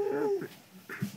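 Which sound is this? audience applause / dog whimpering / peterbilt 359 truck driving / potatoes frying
dog whimpering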